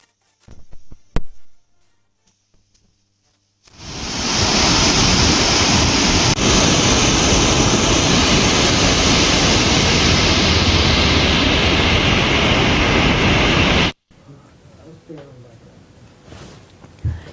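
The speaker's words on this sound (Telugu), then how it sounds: "హైదరాబాద్ సహా రాష్ట్ర వ్యాప్తంగా గురువారం మొత్తం ముసురువాన కురుస్తూనే ఉంది." Heavy rain falls in Hyderabad, a loud, unbroken roar lasting about ten seconds between quieter stretches.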